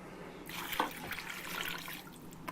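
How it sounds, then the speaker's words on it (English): Two cans of chicken broth are poured into a soup pot with chopped celery and cream of celery soup, giving a steady splashing, gurgling stream that runs for about a second and a half. "now I'm going to pour in my 2 cans of chicken broth."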